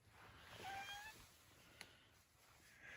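Cat meowing indoors in a small shack, one faint, brief drawn-out meow early on, followed by a small click and quiet room noise.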